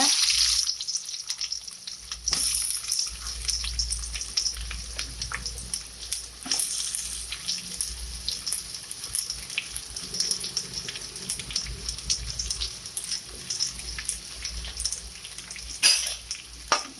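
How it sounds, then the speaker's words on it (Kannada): Chopped onions frying in about two spoons of hot oil for egg pepper masala, a soft continuous sizzle with occasional scrapes and clinks, close but fairly quiet. "ನೀರುಳ್ಳಿ ಶೋಕು ಫ್ರೈ ಮಾಡ್ಕೊಡು."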